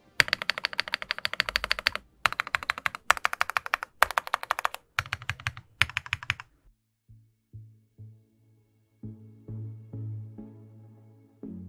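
Stabilized keys on an AJAZZ AK35I V2 Pro full-size mechanical keyboard are pressed in quick repeated bursts of clacky strikes, then slower single presses with a deeper thock, close and clear.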